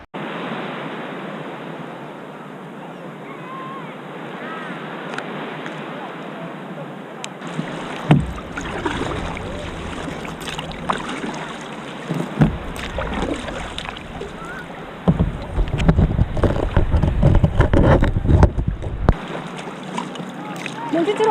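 Paddling a new kayak on water, with soft splashes and paddle strokes building into louder watery bursts near the end, wind noise throughout.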